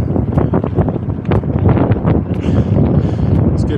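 Strong headwind buffets the microphone on a long-distance bike ride along the Great Divide mountain bike route, a continuous loud rumbling gust noise with fluctuating bursts and no voices.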